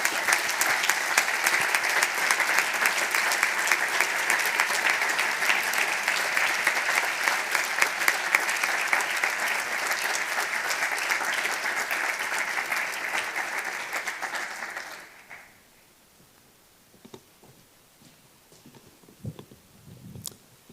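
Audience applause for the press team at a Model UN conference closing ceremony, loud sustained clapping for about fifteen seconds that then cuts off to near silence with a few faint stray sounds.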